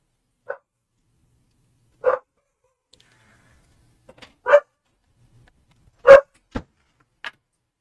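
A dog barks indoors in short, scattered single barks, about six or seven over several seconds and growing louder toward the end, against an otherwise silent background.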